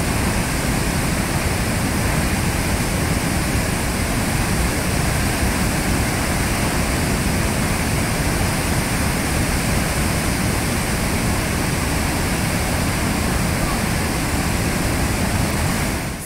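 Large Swedish waterfall, Tännforsen or Ristafallet, heard close up as a dense, unbroken, loud roar of falling water amid heavy spray, steady throughout with no other sounds.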